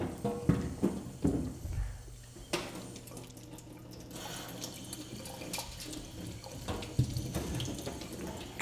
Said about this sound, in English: you can see there is a little bit of water that flows